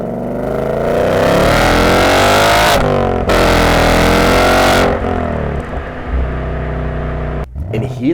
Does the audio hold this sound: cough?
no